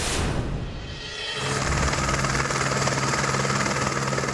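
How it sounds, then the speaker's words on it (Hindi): A helicopter at a village wedding in Salarpur, Noida, roars close by, its engine and rotor noise swelling into a loud, steady whirring drone. "दोनों भाइयों की शादी में बारात हेलीकॉप्टर से दुल्हन के घर पहुंची"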